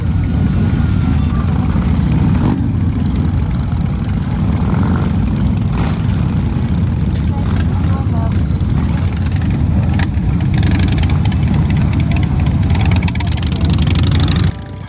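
Pack of motorcycles, a Honda Gold Wing among Harleys, lining up for a group ride out of a chopper fest, their engines rumbling loud and steady throughout with a dense low throb and no pause.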